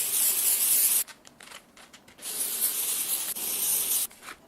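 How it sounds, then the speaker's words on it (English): Dry shampoo is sprayed close up onto a synthetic wig in two hissing aerosol bursts, about a second and then nearly two seconds long, separated by quieter rustling of fibres. "Take my dry shampoo. This is a lifesaver with synthetic wigs."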